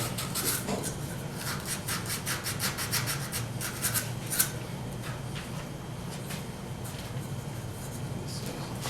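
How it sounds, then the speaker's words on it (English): Sandpaper rubs a small carved wooden scoop in quick back-and-forth strokes, a steady rasping rhythm close by that slows into scattered rubs later, with faint talk in the background. "or you can do a little sanding."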